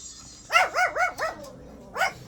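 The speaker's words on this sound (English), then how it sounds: "Dogs are getting started going crazy." Several dogs bark in a short burst of four quick woofs, then a single bark after a brief pause, fairly close and loud with no talking.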